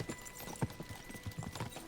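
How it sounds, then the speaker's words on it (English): Horses trotting in Kingdom Come: Deliverance II, a steady close clip-clop of hooves on the ground with a faint snort, no talk over it. "We should spur the horses on."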